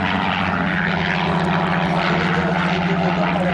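A Spitfire's piston engine and propeller drone steadily and loudly through the whole stretch at an air show at Pontoise, a continuous throbbing roar with no talk over it.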